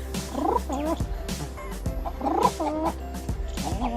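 A voice imitates a pigeon with a run of warbling, gurgling coos, fairly close and steady, repeating in short bursts with no talk over it.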